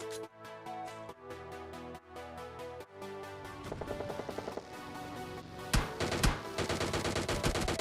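Gunfire in the mobile shooter PUBG Mobile Lite during rush gameplay, rapid repeated shots and bursts over game music and effects, growing denser and louder toward the end with a couple of sharp heavy blasts.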